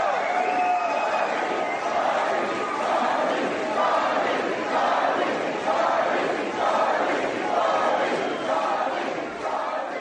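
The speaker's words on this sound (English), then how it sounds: "the crowd broke into chants at one point." A large crowd at an outdoor gathering chants in a rhythmic, repeated pattern, loud and sustained throughout with a roaring, echoing quality.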